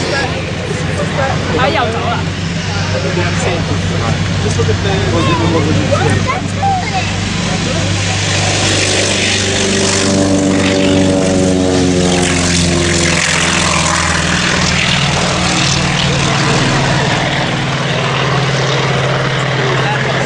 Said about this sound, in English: Have a listen to the sound of this T28 Trojan.